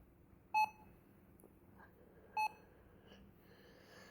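Two short electronic beeps sound a couple of seconds apart over a faint, quiet background.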